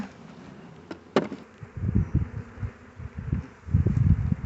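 Honey bees buzz and hum close by amid rustling and bumping sounds of a hive check, with a few sharp clicks or knocks early on.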